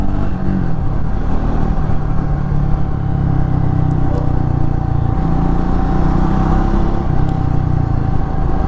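A Triumph Speed 400 motorcycle engine on a test ride, a loud, steady mid-pitched drone with a constant hum that barely changes over the stretch, close and continuous with no talk.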